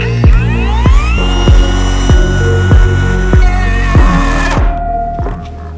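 A Dnipro-M DCR-200BC cordless router is pressed hard into the cut under heavy load, giving loud repeated bogging thumps as the motor strains, then cutting out abruptly near the end.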